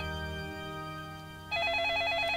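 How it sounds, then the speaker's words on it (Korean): A telephone ring from a video game scene. A sustained tone gives way to a warbling electronic ring with a rapid, trilling pulse that continues steadily and clearly, with no voices. "전화 소리다."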